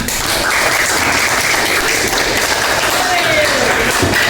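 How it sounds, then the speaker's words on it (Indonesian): Dense, steady applause from a classroom group after a presentation during a school lesson, loud and continuous for the whole stretch with no gaps. "beri tepuk tangan buat kita semua"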